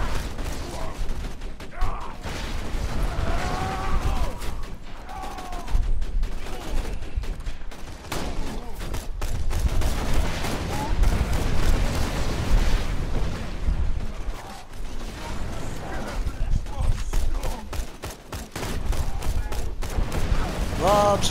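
Grenade blasts and heavy gunfire in Borderlands 2 crack and boom in repeated bursts over a steady mechanical din, while players talk over the action throughout.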